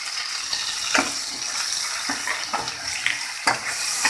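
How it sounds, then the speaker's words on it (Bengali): Ground chili and coriander powders fry in hot oil in a pan for a prawn dopiaza, giving a steady close sizzle broken by scraping strokes of a spatula every second or so. "মশলাগুলো একটু কষিয়ে নেবো"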